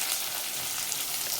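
Onion hits hot oil for chicken gravy curry, a loud, close, steady frying sizzle filling the whole brief moment.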